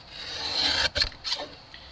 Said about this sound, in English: I need to trim this base because this folder isn't quite big enough